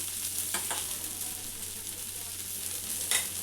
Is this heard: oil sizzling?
yes